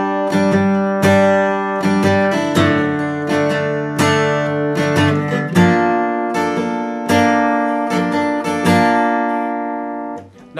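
Guitar chords from the bridge of a song, played slowly as a lesson demonstration, sounding close and clear with several strummed chords that ring out and decay in sequence, no voice over them.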